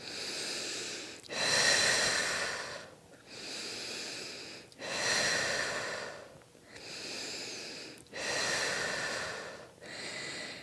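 Heavy, close breathing during a shoulder exercise with weights, long loud exhales alternating with softer inhales in a steady rhythm of about seven breaths.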